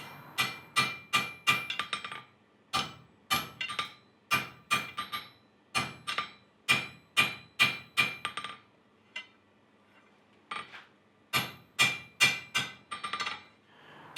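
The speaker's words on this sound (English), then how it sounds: "Why do I and other smiths tap their anvil in between hits?" A blacksmith's hammer strikes an anvil, bright ringing metallic blows in quick rhythmic clusters of rebounding taps separated by short pauses, clear and close with no talking.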